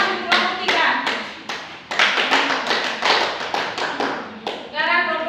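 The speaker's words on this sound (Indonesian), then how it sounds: "tepuk tangan untuk kelompok 3" Classmates in an elementary school science class clap for a presenting group, a loose burst of distinct, sharp hand claps in quick uneven rhythm, close and fairly loud, with children's voices briefly at the end.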